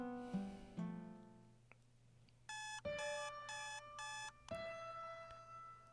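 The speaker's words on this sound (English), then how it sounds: "I silenced my phone's alarm, having already been awake." Phone alarm ringing in the video game Venus: Improbable Dream: a few soft chime tones, then four loud, evenly spaced bursts of bright electronic beeping, followed by another sustained alarm tone.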